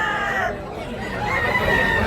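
A rooster at a poultry market in Tabunok, Talisay, Cebu crows with a drawn-out, strained call over a busy background murmur of the crowd.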